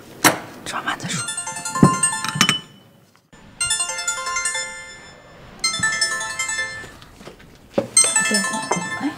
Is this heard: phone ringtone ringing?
yes